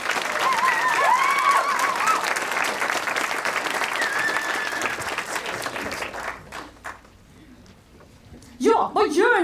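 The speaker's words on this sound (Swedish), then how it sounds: "En applåd!" Audience applause for children invited onstage to talk about a music council at a Swedish children's rights event, a dense sustained clapping with a voice over it that fades out around six seconds, followed by quiet and then a burst of speech.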